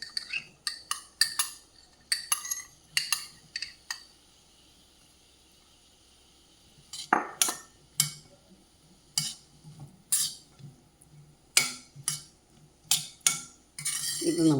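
Chopped vegetables go into a pan for masala oats upma and are stirred with a metal spoon, giving crisp scraping clinks in bursts with quiet gaps between them.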